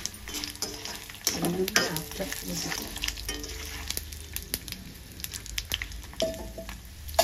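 Sesame seeds, tamarind and garlic fry softly in a pan, a low, close sizzle with scattered crackles and occasional scraping stirs that come and go at an uneven pace.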